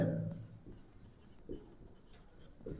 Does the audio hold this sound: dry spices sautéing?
no